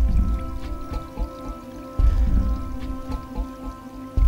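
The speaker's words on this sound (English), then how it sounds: "It was the noise made by rain when first it falls in the early spring upon the hard" Rain patters steadily onto a hard crust of winter snow in early spring, a soft continuous hiss with scattered drips, close and even throughout with no voices.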